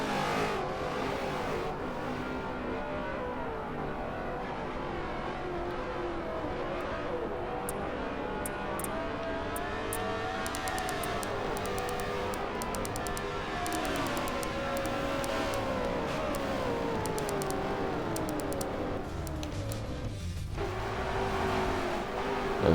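Race cars running at speed on the oval at Daytona in a simulated racing event, engines droning continuously with rising and falling pitch as cars pass, fairly loud and steady throughout with no talk.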